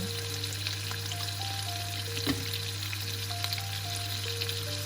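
Shrimp frying in a pan for sea kale fried rice, a soft continuous sizzle at low level with faint scattered crackles and a steady background hum, no voices.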